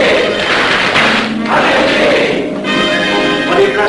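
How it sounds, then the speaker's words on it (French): Members of a Masonic lodge give a loud, close ritual battery of claps followed by a shouted collective acclamation, voices merging in a brief crowd cry with a few heavy thumps. "la triple batterie et l'acclamation"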